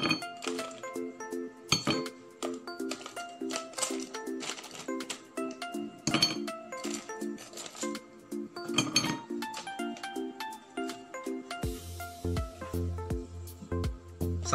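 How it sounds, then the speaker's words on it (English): Ice cubes dropped into a glass for Dalgona coffee, a series of sharp bright clinks and rattles at irregular intervals, close and loud, with a lower thumping sound joining near the end. "lagay po tayo ng ice."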